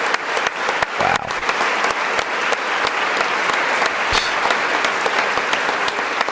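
Sustained, dense clapping from lawmakers in the chamber of Congress during a joint session address, steady and loud throughout with a few sharper claps standing out.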